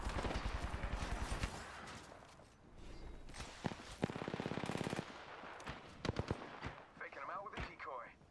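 Rapid automatic gunfire and single shots crackle through a firefight in the battle-royale video game Apex Legends, dense and near, with bursts of fire, footsteps and other game effects in between.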